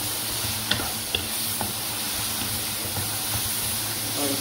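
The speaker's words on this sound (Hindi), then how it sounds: "प्याजों को मैं अच्छी तरह फ्राई करूंगी।" Onions fry in a pan with a steady close hiss and sizzle, punctuated by a few light taps and scrapes of stirring.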